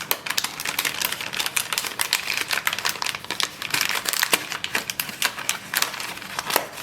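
An MRE flameless heater pouch with a Sloppy Joe filling entree inside is folded shut, giving a close, continuous run of dense plastic crinkling and crackling with no pauses.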